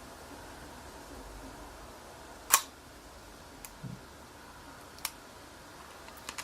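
A Kiev 4a rangefinder camera fires its vertical-travel metal-blade shutter, giving a couple of sharp, quiet mechanical clicks in an otherwise hushed room.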